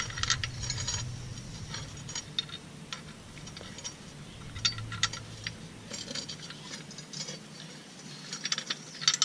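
Metal hand tool working a bolt onto a replacement plow shank, with repeated small ratcheting clicks and clinks of tool and metal parts, moderately close and fairly quiet, no talking.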